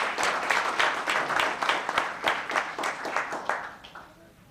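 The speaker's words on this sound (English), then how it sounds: "Another round of applause." Round of applause from the audience at a Los Gatos town council meeting, steady dense clapping with rhythmic surges that fades toward the end.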